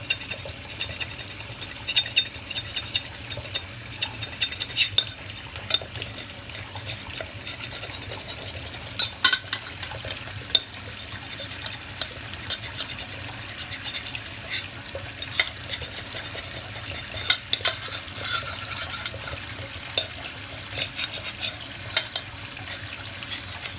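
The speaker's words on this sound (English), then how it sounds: "I have to scrape a little there. Rather use the spoon." A spoon scraping a burnt pan, repeated short scratchy strokes in an uneven rhythm over a low background hum, close and moderately loud, no voices.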